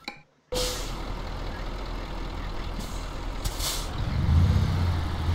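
A truck in Euro Truck Simulator rolls along with a steady engine drone, an air brake hissing in short bursts and a deeper rumble building toward the end.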